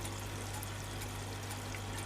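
An Aquael ASAP 500 internal aquarium filter pushes water around a small tank, giving a faint steady wash of bubbling and trickling over a low constant motor hum.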